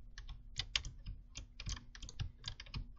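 Computer keyboard keys pressed for Shift and C during setup of a BeamNG.drive map editor, heard as a quick run of crisp, close plastic clicks in an irregular typing rhythm with no talking.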